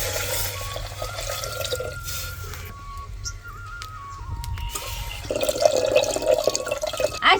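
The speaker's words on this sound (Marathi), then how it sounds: "1 वाटी तुरीची डाळ आहे, त्याला पाणी टाकायचं 2 तांबे" Water is poured from a pot onto a bowlful of toor dal in a pressure cooker by a home cooking fire, a steady splashing, trickling pour up close with faint dripping and no talk.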